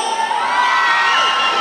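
Crowd of women in a live concert audience in La Paz, Bolivia, shouting and cheering together in a loud, sustained burst of high-pitched screams with no speech over it.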